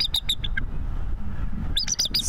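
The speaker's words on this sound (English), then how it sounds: "We're just hanging out among the birds." Morning birdsong outdoors, with several bright chirps and tweets in quick bursts at the start and again near the end, over a steady low background rumble.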